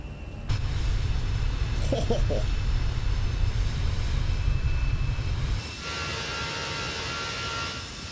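Fenix A320 airliner engines in the MSFS flight simulator, climbing after takeoff: a loud, steady low roar that drops and thins partway through into a quieter, brighter hum.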